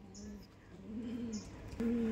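Giribaz pigeons coo softly in low, throaty bursts, several calls spaced across the clip with a faint chirp above, fairly close and quiet.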